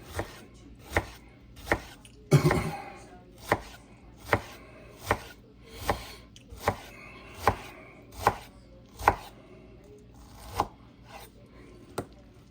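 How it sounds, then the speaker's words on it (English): A knife slices pineapple thinly on a cutting board for a fruit platter, giving about fifteen crisp, evenly spaced chops that come steadily one after another, close and distinct with no talking. "we'll thinly slice it, say for an elaborate fruit platter"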